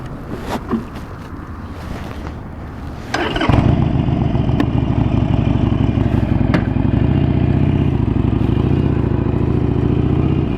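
A 2017 Harley-Davidson Forty-Eight (XL1200X) Sportster motorcycle engine starts up after a brief quiet moment, then settles into a loud, steady idle-to-cruising rumble with subtle pitch shifts as it rides.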